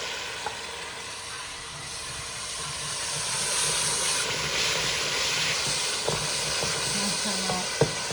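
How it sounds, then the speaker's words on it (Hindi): Cinnamon and masala lightly roasting in a pan for moong daal, giving a steady soft sizzle and hiss with a few faint clicks of stirring, no voices. "इसी में मैं दालचीनी डाल के हल्का सा इसको भून लूँगी।"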